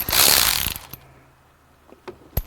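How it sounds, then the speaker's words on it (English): Ratchet wrench loosening a 13 mm bolt under a BMW 640i, a loud burst of rapid clicking at the start followed by a few separate sharp clicks and clanks. "There is a bolt down here we have to undo"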